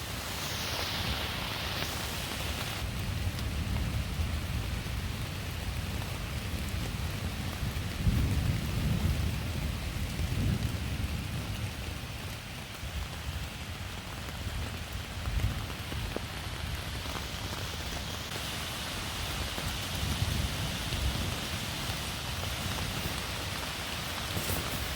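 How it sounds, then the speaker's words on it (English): Steady rain hisses on surfaces throughout, with low rolling thunder rumbling now and then beneath the downpour, in the wilderness at a campsite. "It's starting to get some rain now."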